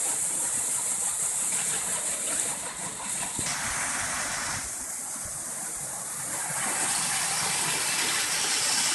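A functioning historic 12-foot backshot waterwheel turning a grist mill in Keremeos, BC, produces a constant rushing, hissing roar of falling water with a low mechanical rumble beneath, loud and close the whole time.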